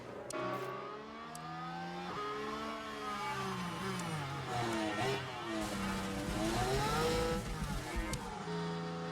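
A race car in a video game revs and screeches, its engine note rising and falling continuously while the tires squeal, loud and sustained throughout.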